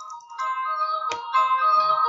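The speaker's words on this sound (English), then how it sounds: "my phone is ringing" A mobile phone ringtone plays a melodic electronic tune in two bursts separated by a short gap, clear and fairly close, with no talk over it.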